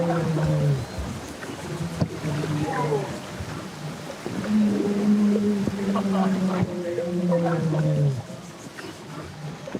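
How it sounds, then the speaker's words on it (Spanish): Humpback whales vocalize underwater, picked up by a hydrophone lowered into the sea, with long moaning and sweeping tonal calls that rise and fall in overlapping phrases over a steady watery hiss. "Una oportunidad única de escuchar a las ballenas jorobadas."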